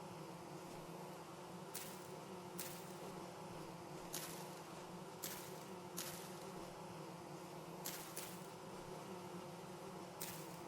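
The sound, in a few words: bees buzzing in video game Vintage Story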